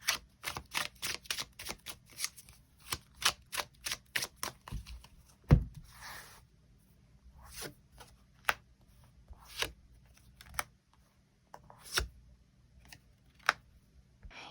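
Tarot cards drawn and shuffled by hand: a quick run of crisp, close flicks and snaps, then sparser single card slaps and rustles, with no talking.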